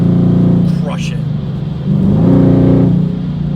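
A car fitted with long tube headers accelerates with a deep, loud engine rumble that swells and holds. People talk over the engine.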